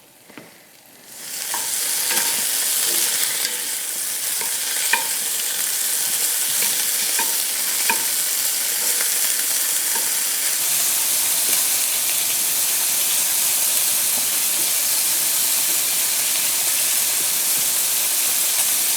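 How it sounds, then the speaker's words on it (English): Bacon frying in a pan under a splatter cover, a steady broadband sizzle that swells in after a quiet first second and holds loud and even, with scattered small grease pops and no talk. "when the bacon starts to cook and grease starts to pop"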